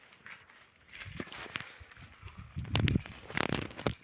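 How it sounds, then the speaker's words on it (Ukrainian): Hooves clop unevenly on the ground as four mares shuffle and walk nearby, with soft rustling and a few heavier thuds. "Отакі чотири кобили."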